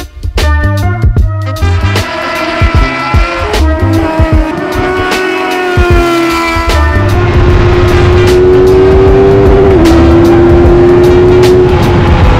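Rush SR race cars drift side by side on the Lime Rock track at a Gridlife event, their engines a loud, continuous roar that revs and climbs in pitch, with hints of tire squeal throughout.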